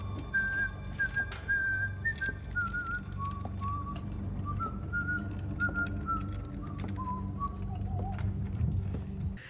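A man whistles the tune of a song in the TV series Severance, a slow wavering melody carried alone over a low background rumble with faint clopping sounds.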